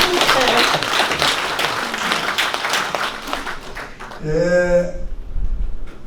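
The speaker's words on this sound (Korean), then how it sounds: "박수를 한번 올리겠습니다" Audience at a Korean senior citizens' association medical policy forum applauds a public health center director, dense clapping under a murmur for about four seconds, then a nearby voice or tone breaks in near the end.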